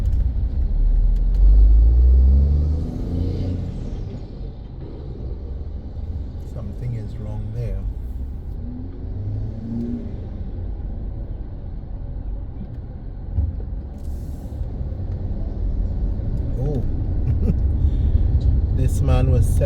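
Road traffic in Trinidad, with cars accelerating, gives a continuous engine rumble and road roar that swells toward the end, while a voice talks over it throughout.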